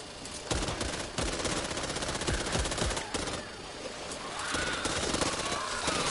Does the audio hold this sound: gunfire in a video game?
yes